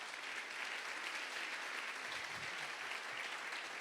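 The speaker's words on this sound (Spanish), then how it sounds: "Dale un aplauso fuerte a Dios." A church congregation claps loudly and steadily, a dense wash of hands sustained throughout with a faint low thump partway, no speech over it.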